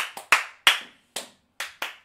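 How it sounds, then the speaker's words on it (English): About seven separate handclaps, sharp and close, spaced irregularly with silent gaps between them, from a small group at a casual living-room livestream. "Clap. Clap. Everyone clap."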